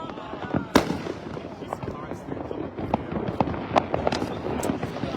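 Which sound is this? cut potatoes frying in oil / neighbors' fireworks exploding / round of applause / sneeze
neighbors' fireworks exploding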